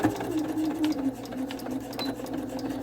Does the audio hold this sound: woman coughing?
no